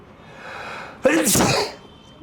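A single human sneeze, a faint indrawn build-up followed by a sharp, loud, close burst lasting about half a second, then quiet.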